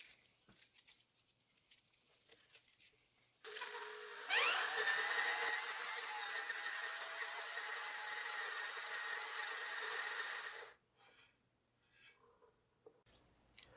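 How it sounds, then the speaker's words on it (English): A makeshift wooden lathe on bearings spins a bellied Lagostina 10-inch skillet at low speed, a steady loud whirring drone that starts abruptly, holds for about seven seconds with a faint squeal, then cuts off. "So I've set up a makeshift lathe"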